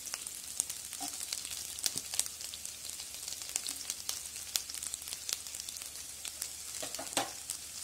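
Chopped large onions fry in oil for a Kerala ladies-finger puli curry, with a constant fine sizzle broken by frequent crisp pops and spits, heard fairly close and with no speech.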